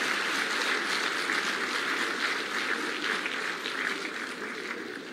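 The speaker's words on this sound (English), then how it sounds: "a Mohatia clap for Dr. James Mwangi" An audience at an outdoor political gathering in Murang'a County claps steadily, a fairly distant, continuous wash of many hands that fades slightly near the end.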